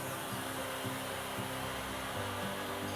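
A Karcher steam cleaner heats and softens old wax on a very dirty floor, putting out a loud, continuous hissing roar with a low motor hum underneath, close and steady throughout.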